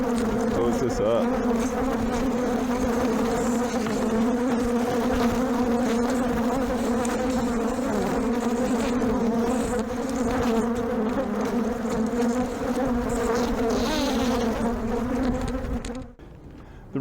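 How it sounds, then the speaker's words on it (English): Many honeybees buzz loudly around an open hive and close to the microphone in a dense, continuous droning hum that wavers in pitch, cutting off abruptly near the end. "The reason the bees go after the microphone like that"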